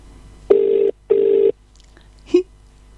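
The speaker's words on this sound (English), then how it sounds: "Yes, it's ringing." A telephone rings on a call being placed, two steady electronic ring tones in quick succession, loud and close, followed by a brief click as the line picks up.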